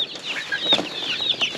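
A crowd of baby chicks cheeps nonstop inside a shipping box, the high peeps overlapping densely and close up, with one of two boxes strapped together and a hundred chicks in all.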